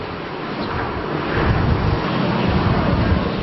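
Strong wind roars steadily beneath a thick storm cloud during an anticyclonic wedge tornado in Kalinan District, Davao City, swelling slightly toward the end. It is a broad, continuous rush with heavy buffeting on the microphone and no voices.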